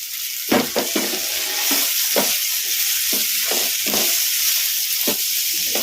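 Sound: chopped choli beans frying on medium flame

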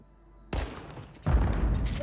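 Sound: gunfire in a video game

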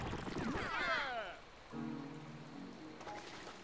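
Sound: rain falling in Pikmin 3 video game

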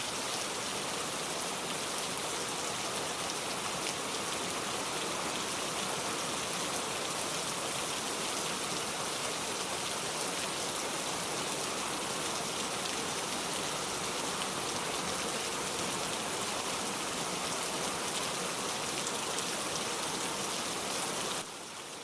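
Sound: heavy rain falling

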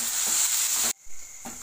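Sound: sautéing ginger garlic paste in a pan

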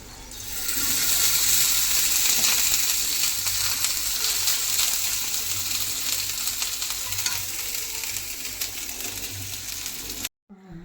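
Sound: food frying in a pan on a gas stove

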